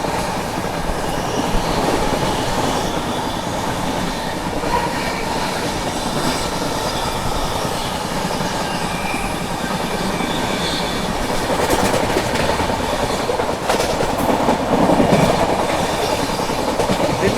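Poorvottar Sampark Kranti Express running non-stop through a junction, a steady loud rumble of rolling wheels and rail clatter throughout, with rhythmic clickety-clack and brief wheel squeal growing slightly louder near the end.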